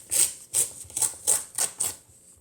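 Creased paper for a paper flexagon being ripped along its fold in six short, evenly spaced tearing bursts, close and crisp, with no talking.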